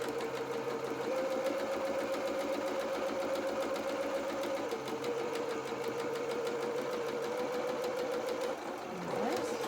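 A sewing machine runs in one long steady stretch, stitching a corduroy seam on a small doll's jacket. The motor holds a constant hum close by, with the needle chattering fast and evenly, and no voices.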